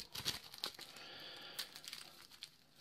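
Playing cards from the Arkham Horror LCG card game being shuffled, a close, dry rustling with several sharp riffle snaps spread over a few seconds.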